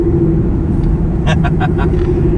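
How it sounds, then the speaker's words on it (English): A 2018 Mustang with a stage 2 Whipple supercharger and 10R80 transmission under full boost: a steady loud engine drone with a high supercharger whine on top, while a few brief, faint sharp sounds break through. "I heard the whine of the Whipple"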